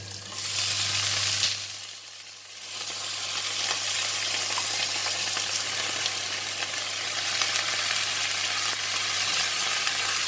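Bean sprouts with garlic and chili stir-frying in a hot pan give off a loud, steady sizzle that dips briefly near the start before surging back and holding through to the end.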